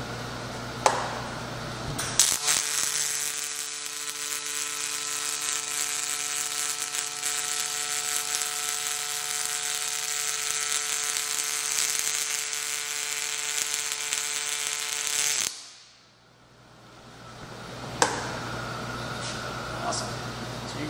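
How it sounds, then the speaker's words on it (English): A Miller Copilot cobot runs a robotic weld on a tacked-up part in AccuPulse mode, a steady buzzing, crackling arc with strong hum tones lasting about thirteen seconds before cutting off, with brief clicks around it. "Let's try this weld out and see how it runs."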